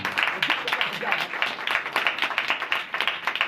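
Audience in a church applauding, a steady dense patter of many hands clapping at moderate distance throughout.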